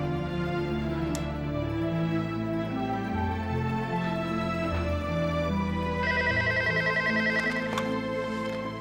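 A phone rings over speakerphone during a call, with a steady repeating ring tone and a melodic ringback pattern that continues for several seconds with no talking.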